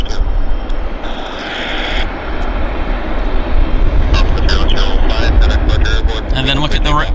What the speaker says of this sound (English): We've got 3 airplanes on the move.